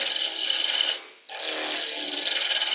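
Wood turning on a lathe as a taper is cut into a Christmas ornament: a steady, bright scraping rasp of tool on spinning wood, close and continuous, breaking off briefly for a moment before resuming just as strongly.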